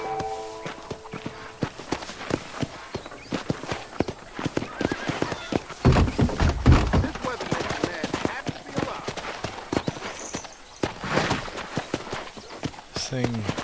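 A horse ridden in Red Dead Redemption, with steady, close hoof clip-clops in a quick rhythm all the way through, a brief snort or whinny, and people talking over the hoofbeats.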